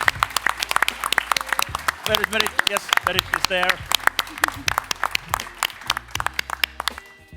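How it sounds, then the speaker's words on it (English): Scattered clapping from a startup ecosystem event crowd honouring an organiser, sharp individual claps in an uneven rhythm while someone speaks over them nearby. "So let's give a big round of applause to"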